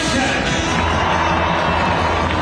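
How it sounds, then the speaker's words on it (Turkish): Stadium crowd cheering continuously as Turkey's volleyball players receive their European Championship gold medals, a dense, steady roar with whoops filling the arena. "Hepsine ayrı ayrı tezahürat var"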